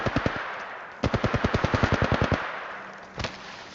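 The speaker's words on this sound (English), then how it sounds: "Opening fire. Getting shot at." Automatic weapon fire from Apex Legends on an iPhone XR, played through a phone: a short burst, then a longer rapid string of shots, a brief pause and a final single report, loud and without voices.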